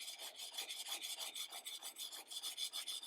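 A traditional hand plane blade is sharpened freehand with steady back-and-forth strokes, each pass giving a rhythmic raspy scrape, close and continuous, with no voices.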